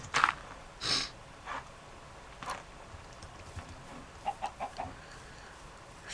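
Chickens clucking in the video game Minecraft, a few short scattered clucks and calls, fairly faint against a quiet background with no talking.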